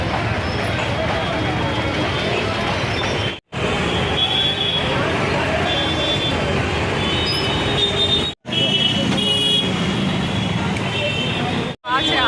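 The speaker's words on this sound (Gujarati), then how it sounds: "ટંકસર બજારમાં આટલો સાત વાગ્યાનો ટાઈમ છે ને આટલો ટ્રાફિક છે" Busy evening traffic fills a crowded wholesale market street in Tankasar bazaar, a steady dense roar of engines and crowd babble with brief cuts between stretches.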